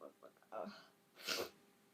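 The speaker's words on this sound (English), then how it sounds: "Stupid sneeze." A single sharp sneeze from a man who has just been cursing about getting sick, with a brief breathy intake before it and his talk resuming afterward, close and loud.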